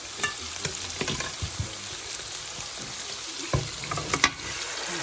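Potatoes with onion and paprika frying in a pan alongside pork neck, stirred with a few scraping knocks over a steady crackling sizzle, close and moderately loud.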